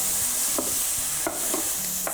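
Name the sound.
stirring the filling mixture in a pan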